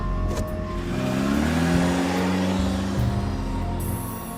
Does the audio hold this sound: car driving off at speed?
yes